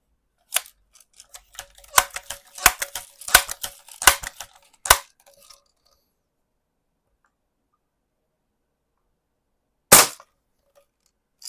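Crosman 760 air rifle being pumped and handled, a run of sharp clicks and clacks, then after a pause one crisp snap of the shot.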